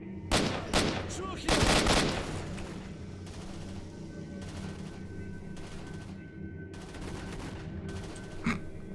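Gunfire in STALKER: Shadow of Chernobyl, a few sharp, loud shot bursts early on and a couple later, against a steady low ambient hum, no speech heard.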